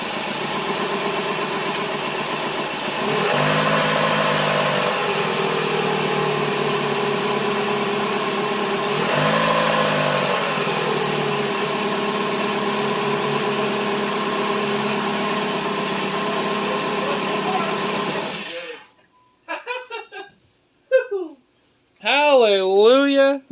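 A Dodge Stratus engine runs loud and close at idle and is revved twice in two smooth rises. It then cuts off, and a person speaks in the quiet that follows.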